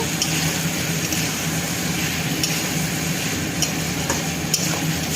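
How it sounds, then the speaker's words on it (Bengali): Chicken fries with ginger-garlic paste and onion in a pan, giving a steady, close sizzle with faint scraping from stirring throughout. "চিকেনটা একটু ফ্রাই হয়ে এসছে, এর মধ্যে আমি দিয়ে দেবো হচ্ছে আদা রসুনের পেস্ট।"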